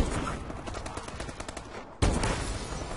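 A single sharp, loud rifle report from the MORS sniper rifle in Call of Duty Advanced Warfare, cracking out near the end over steady game background noise.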